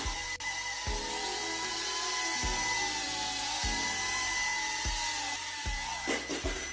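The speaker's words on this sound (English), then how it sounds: "Time to mount the props and give it a first spin." The motors of a Turnigy Evolution whoop drone whine steadily at high pitch with its props mounted, close and continuous, with several soft thumps as it spins.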